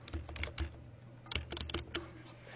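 Someone types on a computer keyboard to rename a browser entry in Dreamweaver CS5 preview settings: a few quick, close keystroke clicks arrive in short bursts, separated by brief pauses.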